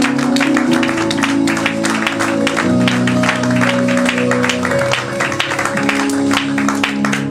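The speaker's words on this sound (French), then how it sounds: "Acclame, acclame, acclame." Church congregation applauding and cheering in praise during a worship service, a dense, steady wash of clapping and voices with sustained music tones underneath, loud and continuous throughout.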